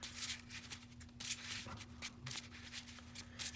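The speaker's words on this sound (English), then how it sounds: "Just gotta make sure we get that nice and shuffled." Yu-Gi-Oh! trading cards shuffled by hand in a casual deck test, a quiet, close, continuous riffling patter of card flicks with no talking.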